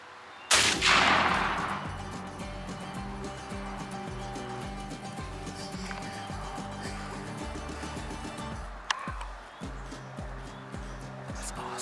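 A shotgun is fired at a wild turkey during a hunt: one loud, sudden blast with a long rolling tail. Later comes a fainter sharp knock, all over steady background music.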